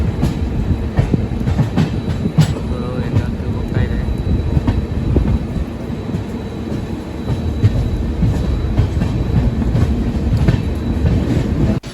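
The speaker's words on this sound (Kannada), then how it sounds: "ಸ್ವಂತ ನಮ್ಮ ಟ್ರೈನು ಕಾರ್ವಾರ್ ಯಶವಂತಪುರ ಎಕ್ಸ್ಪ್ರೆಸ್ಸು" The Karwar–Yesvantpur Express rumbles along the rails in the rain with a loud, continuous roar and rhythmic clatter of wheels, close and sustained throughout.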